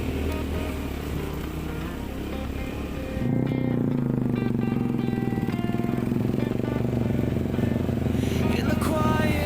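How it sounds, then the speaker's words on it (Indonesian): Motorcycle engine ridden on a steep mountain trail not meant for vehicles, a steady loud drone that rises sharply after a few seconds and holds close and constant. "Bawa motor gimana Mas On?"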